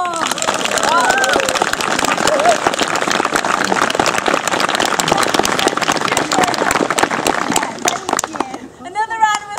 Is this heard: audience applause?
yes